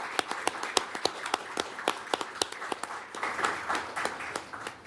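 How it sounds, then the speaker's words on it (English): An audience at a ceremony marks historic work with applause. The claps are fairly quiet and sparse, with distinct individual hand claps landing irregularly over a soft crowd background, suggesting a modest group clapping for several seconds. "Let's have an applause for these tremendous colleagues."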